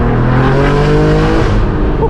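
A straight-piped BMW M4 G82 roars loudly and close at around a third of the throttle, its turbocharged exhaust note holding a rough, steady drone for about two seconds.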